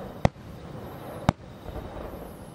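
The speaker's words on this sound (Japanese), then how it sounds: "静寂に包まれた中で花火の爆破音だけが響き渡ります。" During a quiet countryside summer night, village fireworks burst twice, each a sharp, sudden bang about a second apart that echoes through the still air.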